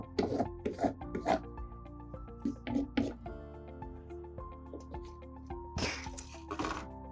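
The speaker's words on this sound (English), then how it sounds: "You have to clean out that wax from your blade" A blade is scraped clean of encaustic wax in a series of short, close, rasping strokes, a few quick ones at the start and more spread out later, with quiet gaps between them.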